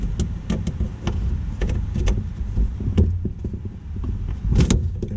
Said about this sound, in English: Try and lever him out and get that clip to pop